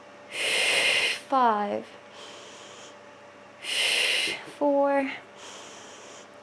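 Two slow rounds of audible breathing in and out during a Pilates side-lying leg stretch, each a long airy inhale followed by an exhale. A voice counts down between and over the breaths.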